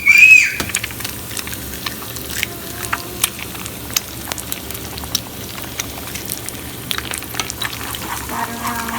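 Two eggs frying in a pan, with kale mixed in: a steady close crackle and sizzle that bursts loudly at the start, then settles into a dense, even spatter with scattered pops.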